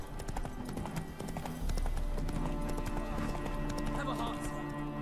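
Hooves of Geralt's horse Roach in The Witcher 3: Wild Hunt clip-clop in a steady trotting rhythm, close and continuous, with background game ambience and low voices underneath.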